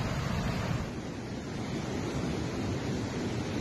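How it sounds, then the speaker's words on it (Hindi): Floodwater rushes after a cloudburst, a dense, continuous roaring flow, steady and fairly loud, with no voices over it. "जो पानी का बहाव है आप देख सकते हैं"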